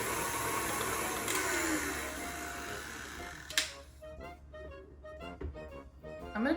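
A stand mixer beating pumpkin into a sugar mixture whirs steadily for a few seconds, then cuts off, leaving scattered clicks and clatter of handling the bowl.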